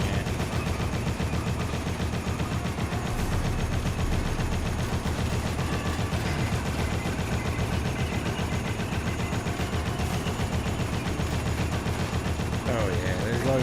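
Continuous gunfire from shooting at a tank boss in the video game Dead Rising, dense rattling automatic bursts packed with explosions that never let up, loud and constant, with a voice under the din.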